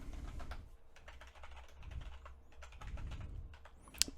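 Rapid keystrokes on a computer keyboard sitting directly beneath the microphone, close and busy for the whole stretch, with faint bird cooing in the background and a brief sharp click near the end.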